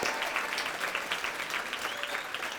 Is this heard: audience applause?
yes